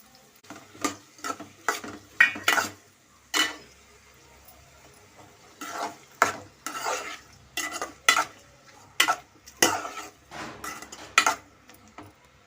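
Chopped tomatoes, onions and spices are stirred in a cooking pan for pacodi curry. A spoon scrapes and clinks against the metal in repeated rhythmic strokes over a faint sizzle, close by, with no speech.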